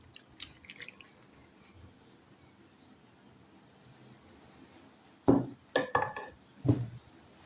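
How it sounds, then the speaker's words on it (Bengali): Cooked Chinese-style mixed vegetables are tipped from the pan into a bowl: faint soft rustling at first, then a few close, wet clattering thuds of food and utensil against the dish. "দেখুন আমি ঢেলে নিচ্ছি"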